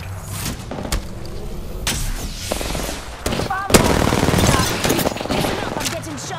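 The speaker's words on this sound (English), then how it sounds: "I'm getting shot at." Rapid automatic gunfire in Apex Legends on World's Edge or Kings Canyon, loud repeated bursts and single shots cracking throughout, mixed with other game effects and a voice talking.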